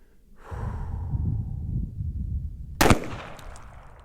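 A single sharp .357 Magnum revolver shot fired at a 150-yard target cracks out loud partway through, preceded by a soft breath or snort and followed by a brief fading echo outdoors.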